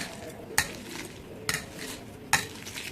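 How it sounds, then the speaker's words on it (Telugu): Three soft, evenly spaced squelching presses as onions are mashed by hand into cooked rice, close and fairly quiet over a steady faint background hiss. "నెక్స్ట్ వచ్చేసి ఉల్లిపాయలు వేసుకుందాం. ఇవి కూడా కొంచెం ఇలా మ్యాష్ చేద్దాం."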